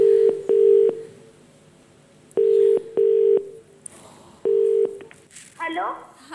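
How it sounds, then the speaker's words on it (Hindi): On a TV quiz show set, a telephone call is placed and the ringing tone sounds in clear, loud pairs of low buzzing pulses repeated three times with pauses between, followed by a brief voice at the end. "अगर यदि हो सके तो आप इनका फोन मिलवा दें"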